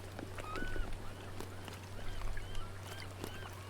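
Bird honking in the survival video game Sons of the Forest, a few faint goose-like honks and squawks over a steady low hum, quiet and distant.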